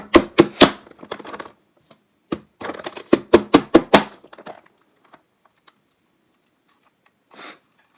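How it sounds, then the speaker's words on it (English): A knife chops potatoes rapidly on a cutting board in quick bursts of sharp taps, pausing between runs, then a few scattered knocks. "All this noise, all this chopping."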